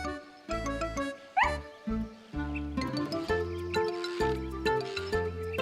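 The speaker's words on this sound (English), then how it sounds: "She was wagging her tail and barking happily." An animated dog in a classic children's cartoon yips and barks happily in short bursts over a cheerful musical backing.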